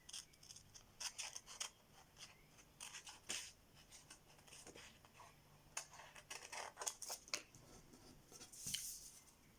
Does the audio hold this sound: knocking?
no